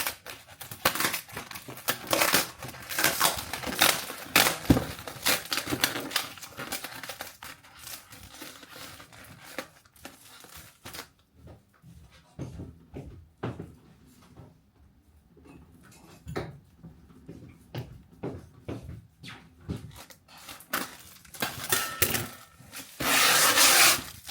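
Someone works open a heavily taped package by hand, with close crinkling, rubbing and tearing of tape and packaging in irregular bursts. A quieter stretch comes midway before louder ripping near the end.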